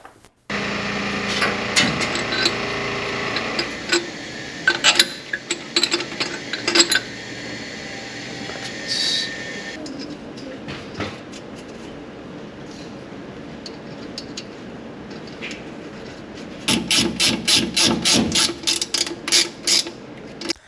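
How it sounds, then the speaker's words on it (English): A power drill whines in several long bursts, then chatters in rapid pulses as it bites into steel strap, close by with no talking. "Drill some holes, we'll be done."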